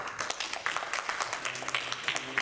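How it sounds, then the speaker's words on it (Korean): A church congregation gives a short round of thankful applause during a Sunday service: soft, scattered hand claps at a moderate distance, fairly quiet and brief. "우리 김정아 회장님 나오셨는데 우리 감사의 박수 한번 돌리겠습니다."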